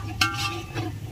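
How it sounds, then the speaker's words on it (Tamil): Masala for Dindigul Thalappakatti-style chicken biryani, made without tomato, being sautéed in a pot, a brief close burst of sizzling with a stirring scrape. "நம்ம போட்ட மசாலாம் சூப்பராக வதங்கிருச்சு."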